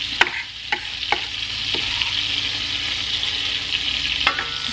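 Garlic sizzles in butter in a 12-inch heavy-duty 5-ply stainless steel pan, a steady close frying hiss broken by a few sharp scrapes and clicks as it is stirred.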